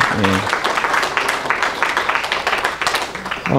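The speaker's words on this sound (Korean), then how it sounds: "참으로 하나님께 감사와 찬양과 영광을 돌리십시다. 박수로." A church congregation claps together after a sermon's call for thanks, a dense steady patter of hands filling the room, with a brief voice at the start and end.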